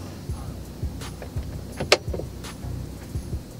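A motorized flip-down TV screen in the roof of a 2014 Toyota Vellfire Z GS extends with a soft electric whir inside the cabin, mixed with a few clicks and small knocks.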